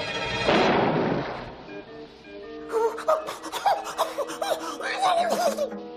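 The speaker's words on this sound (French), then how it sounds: "Quelle explosion!" A loud burst of explosion rumble in an animated series fills the first second and fades, followed by laughter and excited voices.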